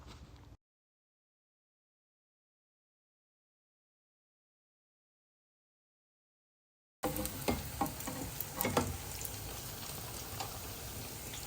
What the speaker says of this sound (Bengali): দ্বিতীয় দিনের ইফতারের ভাজা পোড়া চলতেছে অ্যান্ড অনেক কিছু ভাজবে